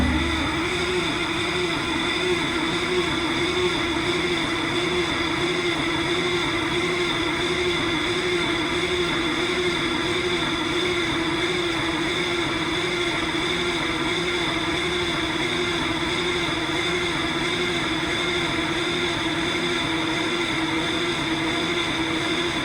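Caterpillar 3412 V12 diesel engine cranking over on the starter with the shutdown engaged, a steady droning whir with a rhythmic pulsing that continues unbroken and fairly loud.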